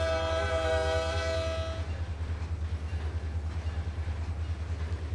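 Florida East Coast (FEC) train in the Trainz simulator sounding a steady multi-tone horn blast for about two seconds, then fading into a low rumbling engine drone that continues alone.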